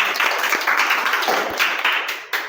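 A group of schoolchildren claps for their classmates in a classroom, a dense burst of applause of hand claps that stays steady and fairly loud for a couple of seconds.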